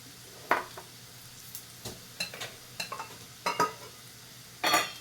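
Onion fries in a pan with a soft, continuous sizzle. Sharp scraping strokes of a stirring spoon break through it every second or so, close and fairly loud.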